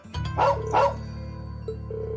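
A dog gives two short barks in the game Trails of Cold Steel 2, loud and close over a steady low musical drone, followed by quieter soft tones.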